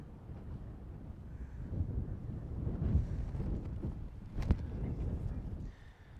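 Gusty wind buffets the microphone outdoors on a disc golf course during a practice round, a steady low rumble that swells and eases, with a brief sharper gust near the middle.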